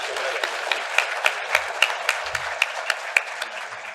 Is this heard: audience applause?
yes